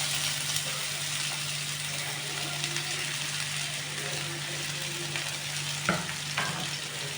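Onion frying in a pan makes a steady, close sizzle and crackle throughout, with a couple of sharp clinks of a utensil near the end.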